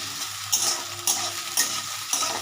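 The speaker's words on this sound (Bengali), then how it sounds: "আলুগুলো একটু ভাজা হোক" Potatoes frying in a pan of hot oil for a Bengali thor ghonto, a steady sizzle broken about every half second by a scraping stir, close and moderately loud with no talk.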